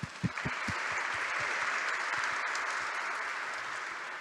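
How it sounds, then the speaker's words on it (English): Audience applause at a hackathon closing ceremony, a dense steady wash of clapping from a crowd that holds for about four seconds after a few louder early claps. "So applause for that."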